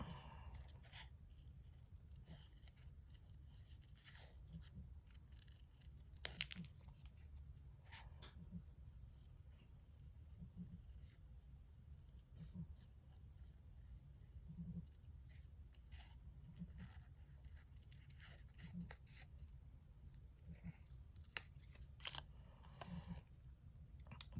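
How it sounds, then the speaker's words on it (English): Scissors snip around a paper holly leaf for a stamped Christmas tree card, a quiet, close run of short crisp cuts in an irregular rhythm against a soft background hum. "Now we can finish cutting out this holly leaf here."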